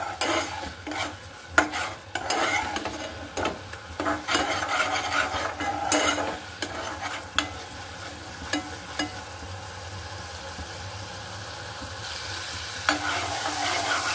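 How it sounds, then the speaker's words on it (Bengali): Ground chili, coriander and cumin powder with salt sizzle and fry in oil in a pan as they are stirred, with steady close crackling and occasional scrapes and clinks of a spoon against the pan. "মশলাটা আমি ভালোভাবে কষিয়ে নেব।"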